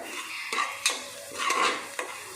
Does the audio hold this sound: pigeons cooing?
no